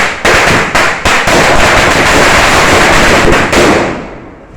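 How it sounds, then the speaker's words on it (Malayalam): A string of firecrackers set off during a Vishu festival celebration bursts in a loud, dense, continuous crackle lasting several seconds, opening with a few sharp separate bangs before the rapid popping fills in and then tapers off at the end. "ഒരു മാലപ്പടക്കം പൊട്ടിക്കാൻ പോവുകയാണ്."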